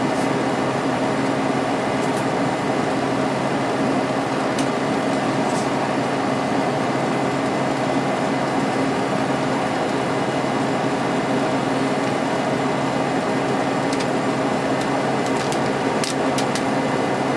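A 1979 Emerson Quiet Kool window air conditioner runs with a constant, even whir of fan and compressor, close and loud and unchanging throughout, with a few faint clicks near the end and no voices.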